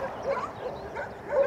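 Many dogs at an animal shelter near Tangier bark and yip together in a dense, continuous chorus, with a louder burst of barking near the end.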